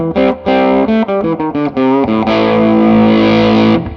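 Electric guitar through a Formula No. 55 pedal in red mode with the gain fully up and the guitar volume rolled down, giving a steady run of loud, sustained overdriven notes and chords, alone and without talk.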